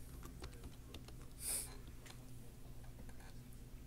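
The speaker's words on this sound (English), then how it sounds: "I'm going to type live." Quiet, irregular key taps from a computer keyboard, soft and close with a brief louder hiss midway, no talking over them.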